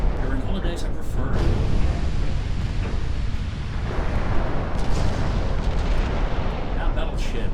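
Naval gunfire and exploding shells in the Ultimate Admiral Dreadnoughts naval warfare game, a loud continuous barrage of booms and rumbling blasts as a battleship is pounded, with someone talking over it.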